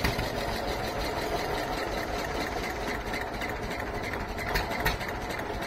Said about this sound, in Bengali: এখানে অনেকগুলো যন্ত্রচালিত নৌকা অপেক্ষা করছে।